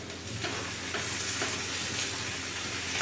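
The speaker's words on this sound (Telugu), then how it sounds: "మళ్ళీ ఫ్రై చేసుకోవాలి" Tomatoes fry in a pan with a steady, close sizzle and soft crackle, plus a brief stirring scrape near the start, and no talking.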